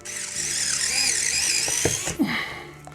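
A power drill whirs steadily for about two seconds while taking screws out of a ceiling fan mount, then stops, followed by a few brief clicks and scrapes of the hardware, close and loud.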